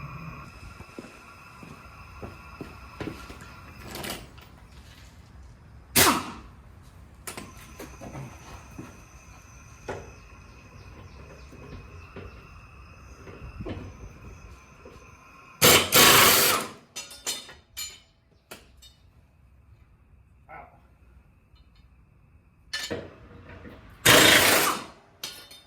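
An impact wrench with a 15/16 socket removes lawn mower blades, firing in short loud bursts of rattling hammering spread over the span. Quieter mechanical clinks and handling noises fill the gaps.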